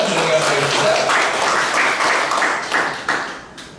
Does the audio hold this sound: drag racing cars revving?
no